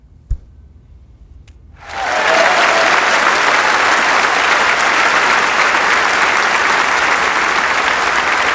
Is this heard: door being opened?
no